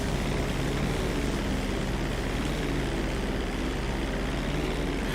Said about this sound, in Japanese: 俺もうこれから飛行機で行くからね。